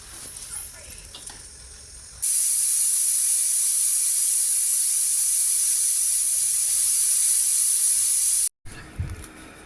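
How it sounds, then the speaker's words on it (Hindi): A steady, loud hiss of steam escapes from a pressure cooker holding freshly cooked raw banana curry. It starts abruptly after a couple of seconds, runs unbroken, then cuts off sharply near the end. "कुकर अभी खोला नहीं है, उसमें हल्की भाप है"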